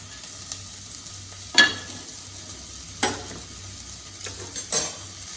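Chopped button mushrooms sautéing in a pan for mushroom soup, a soft steady sizzle with a few sharp clicks and scrapes of a spoon stirring against the pan.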